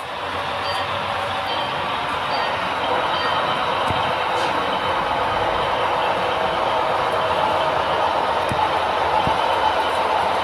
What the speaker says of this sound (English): Those are BLI locomotives. They've got timed chuff and smoke puff.